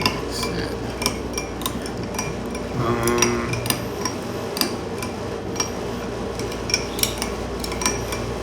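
Metal utensil clicking and scraping in a bowl while egg and pork hash are mixed, with steady, fairly close taps repeating at an even pace and no talking.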